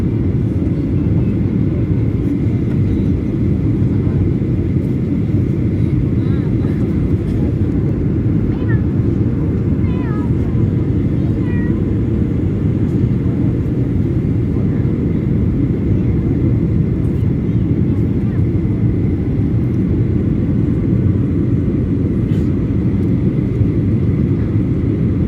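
Inside the cabin of a Lion Air airplane in flight over West Lombok, a steady, loud low engine rumble drones without letup for the whole stretch, with faint murmurs of voices beneath it.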